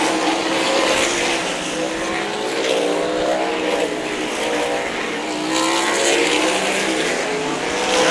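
Sprint cars racing around the Meridian Speedway dirt oval during the Diamond Cup, a dense, steady roar of several engines held close and loud throughout, with swelling passes and no talk over it.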